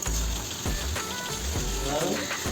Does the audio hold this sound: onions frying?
yes